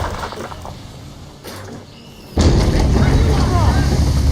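A swivel gun fires from a sailing ship in Assassin's Creed III, a sudden loud blast that jumps into a sustained roaring, crackling wash of noise over sea and wind ambience.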